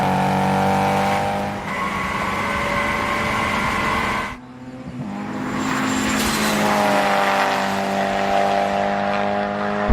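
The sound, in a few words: Honda S2000 VTEC engine revving during acceleration race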